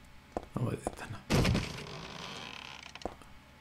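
In the Silent Hill 3 video game, a broken door lock gives a few sharp thunks and a heavy rattling clatter, followed by lighter knocks, with a voice partly over it.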